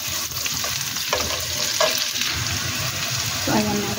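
Onions fry in oil for chicken bukhari, a dense, close sizzle that holds steady throughout, broken by a few scraping stirs against the pan.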